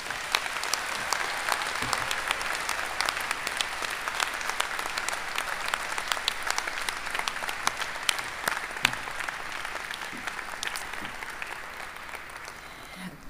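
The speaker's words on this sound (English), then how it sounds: "Let's all recognize them with a round of applause" Sustained applause from a large crowd at a college convocation ceremony, dense steady clapping that carries on throughout before easing off slightly at the end.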